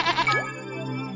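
A goat gives a single short wavering bleat, close and loud, lasting about a second and heard alone.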